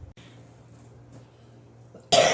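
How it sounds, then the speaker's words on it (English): A person coughs once near the end, a loud sudden burst after a stretch of faint low background hum, heard alone with no talking. "Now this is the time where I'm getting sick, so I'm coughing."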